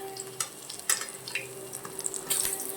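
Egg pakora for egg chilli fries in hot oil in a pan, giving a steady soft sizzle with scattered crackles and pops, close and alone.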